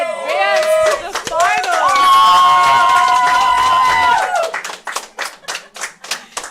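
Crowd cheering and clapping at a high school boys lacrosse semifinal game, a loud sustained roar with a shouted voice on top, breaking into rhythmic clapping toward the end.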